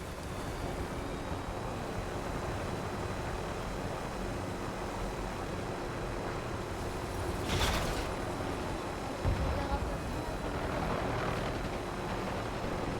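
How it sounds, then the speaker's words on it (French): A drone lifts off in the shooter game Warzone with a steady whirring, wind-like drone that holds throughout, broken by a couple of short louder bursts midway. "D'accord, faites décoller un drone."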